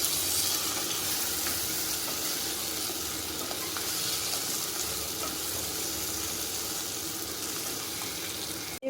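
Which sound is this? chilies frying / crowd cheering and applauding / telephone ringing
chilies frying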